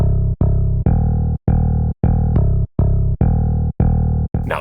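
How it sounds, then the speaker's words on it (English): Dark synth bass from the Boo Bass plugin in FL Studio plays a steady run of about nine loud, sustained notes separated by brief gaps, heard alone with no voices. "when you play notes, you will instantly notice a dark bass sound"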